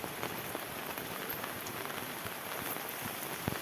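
Heavy monsoon rain in Nemmara, Kerala, pours steadily onto surfaces in a dense, even hiss with scattered drops, continuous and fairly quiet, with no voices.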